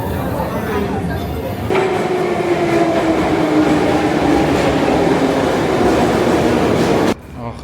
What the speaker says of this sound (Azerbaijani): Ulduz metrosundayıq. Öz metromuzda.